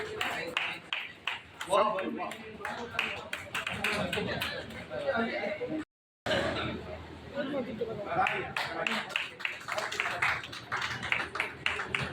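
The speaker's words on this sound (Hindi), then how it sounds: "देखिए जोरदार तालियों के दौरान से स्वागत कीजिए।" Applause from a crowd at an Indian public gathering or stage event welcoming guests, heard as steady scattered clapping under a loud announcer's voice, with a brief cut to silence partway through before the clapping and talking resume.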